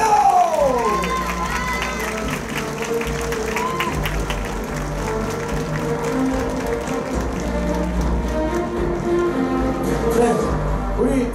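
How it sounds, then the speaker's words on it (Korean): Fans at an Incheon United football fan day event clap and cheer steadily throughout, a dense crowd roar with whoops and shouts, music or amplified sound underneath. "뜨거운 박수를 보내주세요."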